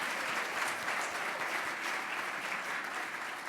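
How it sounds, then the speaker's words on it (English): Sustained audience applause at a television academy awards ceremony in Chicago, a dense, even wash of clapping from a sizeable crowd, moderately loud and without speech. "Let's have another round of applause."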